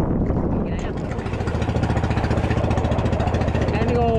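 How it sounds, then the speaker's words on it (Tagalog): A small fishing boat engine runs steadily near the microphone with a continuous pulsing drone, out at sea during skipjack tuna fishing in the Pacific. "ayusin ko muna itong makina ko."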